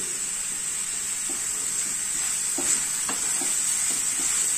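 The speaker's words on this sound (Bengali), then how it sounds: "পেঁয়াজ আদা রসুন সব কিছু ভালো করে নাড়তে হবে হাই ফ্লেমে" Onion, ginger and garlic paste stirred and sautéed over a high flame for palak paneer, a steady close hiss of frying with soft scrapes of the spoon at irregular intervals, no voices.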